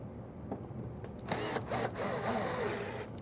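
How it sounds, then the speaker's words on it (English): A drawer slide is screwed into a wooden cabinet, with short bursts of a power driver whirring and screw threads biting into wood, separated by brief pauses and handling noise. "Screw that in place, making sure that that slide in the front is just back from the front edge."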